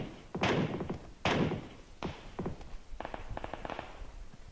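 Gunfire in PUBG Arcade cracks out in separate sharp reports, two heavier shots, then a couple of lighter ones, followed by a quicker, rattling burst, all fairly faint and somewhat distant.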